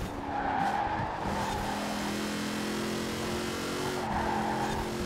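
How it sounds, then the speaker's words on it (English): A Rossion Q1 race car in Forza Horizon 4 drives hard with a steady engine drone while its tires squeal and skid under braking into a corner, with a brief shift partway through. "Yeah, I feel like I need to brake on that one."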